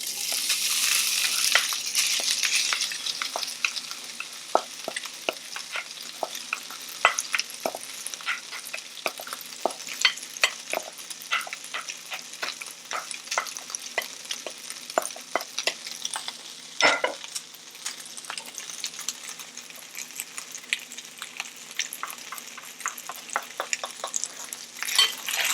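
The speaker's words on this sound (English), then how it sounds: "Add the rice mixture to the pan." Egg fried rice mixture frying in a hot pan, a steady sizzle broken by frequent scraping clicks of stirring, close and moderately loud with no talking.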